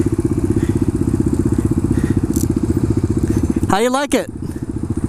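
A Suzuki DR-200 motorcycle engine idles with a rapid, even thumping pulse close by, while someone speaks briefly over it near the end.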